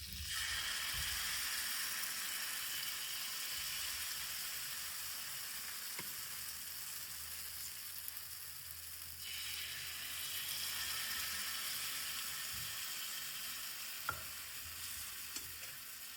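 Ghee sizzles in a pan for frying malpua, a steady close hiss and crackle with occasional light clicks and scrapes, continuing alone at an even level throughout.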